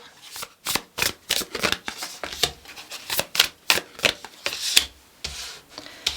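A deck of tarot cards is shuffled close up, with a quick series of riffling, rubbing bursts that come in uneven rhythm over several seconds.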